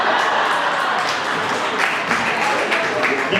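A dense, continuous wash of audience applause fills the hall after a performance by a Huasteco music group at the Mexican Cultural Institute, many hands clapping at once, steady and fairly loud throughout with no voices standing out.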